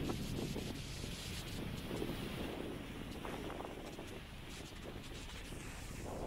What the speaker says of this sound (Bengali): ঝড় বৃষ্টি প্রচুর পরিমাণে হচ্ছে একসঙ্গে দুটোই